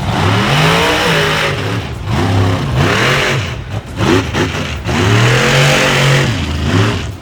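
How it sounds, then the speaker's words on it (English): The Gray Ghost, a 1986 Chevrolet C10 monster truck with a 427 cubic inch Chevrolet engine, roars loud and close at an arena show, revving repeatedly in rising and falling surges. "driving the Gray Ghost 1986 Chevrolet C10, 427 cubic inch Chevrolet motor"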